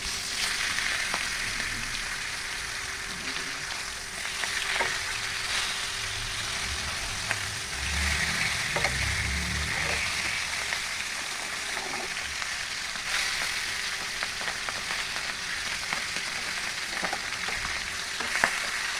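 Pangas river fish sizzles steadily in hot oil after being turned in the pan, a continuous close frying hiss with soft pops and a few scraping stirs, no voices.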